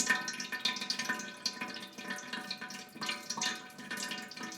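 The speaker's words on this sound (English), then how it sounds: "You want to get that oil a little bit hot so it drains, or hot so it drains in." Hot oil drips and trickles as it drains from cooked mirepoix for a brown espagnole sauce, coming in uneven little splattering bursts, close by and fairly quiet, with no talking.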